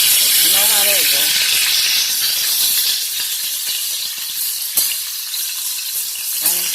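Chicken pieces brown in a pan, giving a loud steady sizzle and frying hiss that carries on throughout, with brief moments of a voice speaking over it near the start and end.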